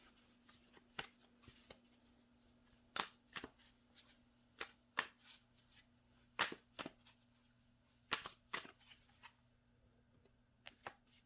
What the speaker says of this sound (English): So I'm just gonna shuffle the cards.